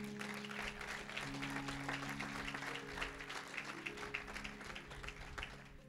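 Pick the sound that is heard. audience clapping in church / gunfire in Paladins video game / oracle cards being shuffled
audience clapping in church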